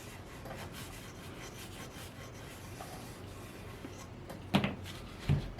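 An eraser rubs back and forth over guitar frets to level them, a steady, soft, close scraping hiss that continues throughout, broken by two light knocks near the end. No one speaks.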